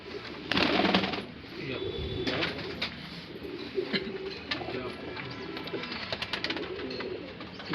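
Shahjahanpuri-breed pigeons kept in Shahjahanpur, Uttar Pradesh, coo softly and repeatedly close by, mixed with scattered clattering and a brief voice.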